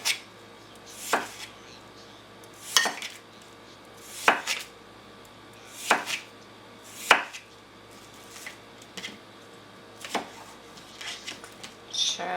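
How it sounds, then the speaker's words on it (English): A knife chopping cucumber for sushi rolls on a cutting board, sharp distinct chops in a slow, fairly regular rhythm, close and clear against a quiet room. "chop it up"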